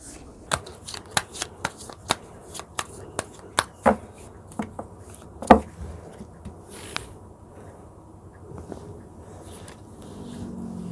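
Tarot cards shuffled by hand during a reading, with a quick run of crisp slaps and riffles close up that thins out into quieter handling and a low background hum.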